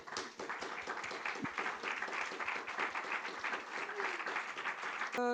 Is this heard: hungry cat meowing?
no